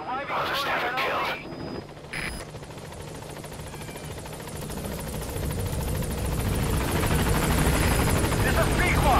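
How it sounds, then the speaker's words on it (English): Extraction helicopter arriving in Metal Gear Solid V: The Phantom Pain, a steady rotor drone that builds slowly and grows louder toward the end, with brief voice and radio bursts near the start. "I'll send the extraction chopper."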